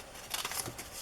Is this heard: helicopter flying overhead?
no